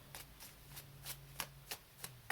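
Tarot cards being shuffled by hand: a series of quick, soft riffling bursts repeating at a steady pace, quiet and close, with no talking.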